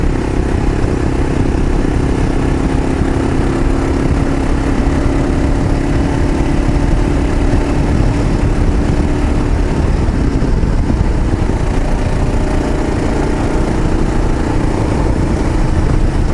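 A 2015 Gen2 motorcycle with an MCP carburetor upgrade runs steadily under throttle, a continuous close engine drone with no bogging, filling the whole stretch without any voices.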